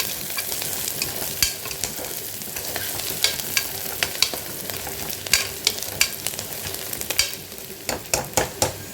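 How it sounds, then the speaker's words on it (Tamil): Onions and green chillies sautéing in ghee for mutton curry, with a steady frying hiss under repeated spatula scrapes and taps against the pan that grow more frequent toward the end. "இப்போ இதில் ஒரு அஞ்சு பச்சை மிளகா சேர்த்துக்கலாம் நெய் சேர்த்து நல்லா வதக்கிக்கலாம்"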